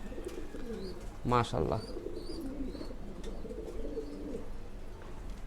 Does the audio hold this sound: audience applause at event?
no